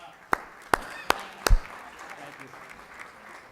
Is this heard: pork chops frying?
no